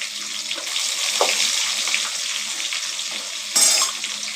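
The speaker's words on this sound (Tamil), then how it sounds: "அந்த பூண்டை போட்டுக்கலாம்." Peeled garlic frying in hot oil for a Tamil brinjal chicken curry, a steady close sizzle with stirring scrapes and a brief louder splash near the end.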